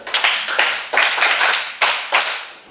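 Schoolchildren in a classroom clap together for a girl, six or so loud, rhythmic bursts of group clapping spaced about half a second apart, close and with no talking.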